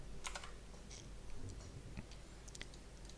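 Quiet keystrokes clack on a computer keyboard in short, irregular bursts of clicks, close but soft over a low background hum, with no talking.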